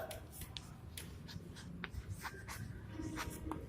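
Chalk or marker strokes writing a line on a classroom board, short scratchy squeaks spaced irregularly, faint and close with a quiet room hum underneath.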